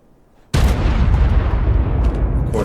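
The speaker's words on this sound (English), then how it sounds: "Of course, there's explosions." A sudden heavy explosion in the survival video game Ark Primal Nemesis booms in after a quiet moment and rumbles on loudly without letup.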